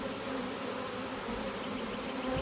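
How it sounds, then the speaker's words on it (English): A honey bee swarm buzzes at a swarm trap, a dense, loud, unbroken drone of many bees close by with no other sounds. "but bee swarms are going in there now."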